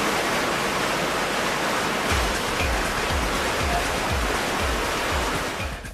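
Five 150-horsepower turbine pumps fill wave pool chambers with water: a loud, steady rush like a waterfall, with a rhythmic low thumping pulse joining in after about two seconds.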